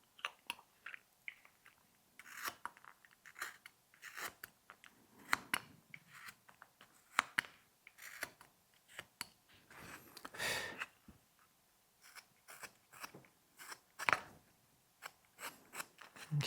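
A knife carves a small wooden snowman ornament, rounding one of its arms. Short, scratchy slicing strokes come in irregular bursts with brief pauses between them, close and quiet, with no voices.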